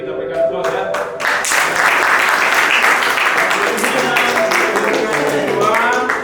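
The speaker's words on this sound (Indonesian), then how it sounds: "Kita berikan applause ya." Classroom applause for a student winner of a short story award, a dense burst of clapping from children that starts abruptly and holds steady, with some voices mixed in.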